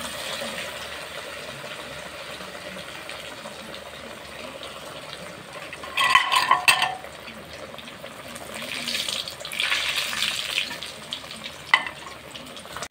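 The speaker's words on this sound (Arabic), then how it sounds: "ننزل بقى كده زيت غزير ونقلي بقى ايه البانيه بعد ما سبناه يرتاح" Breaded cutlets (panee) frying in plenty of hot oil, a steady soft sizzle with louder crackling bursts as pieces go in and get moved.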